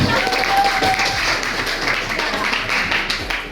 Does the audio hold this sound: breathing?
no